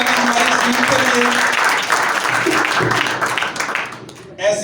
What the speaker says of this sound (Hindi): जोरदार ताली हमारी टीम के लिए